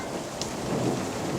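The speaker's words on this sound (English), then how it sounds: "Thunder." Low rumble of thunder rolling through a steady rain storm in Jordan, a broad continuous wash of rain with the thunder swelling gently underneath, no voices.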